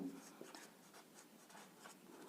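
A statement is written out during a class 8 maths lesson on quadrilaterals: soft, faint scratching strokes in short bursts, close and quiet, with no voice.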